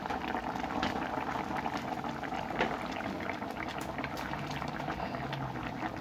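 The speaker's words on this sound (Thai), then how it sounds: "น้ำกำลังเดือดบกบกบกเลย" Coconut milk with bananas boils in a covered pot, giving a steady close bubbling and gurgling that carries on alone for several seconds without a break.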